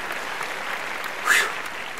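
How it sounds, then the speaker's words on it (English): Steady applause from an audience at the Arvo Awards 2013 ceremony, even and moderately loud across the clip, with a brief swell of sharper claps near the middle. "I'm going to have a really hard time putting those claps in"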